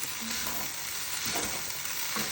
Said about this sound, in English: And then you're going to mix it all up.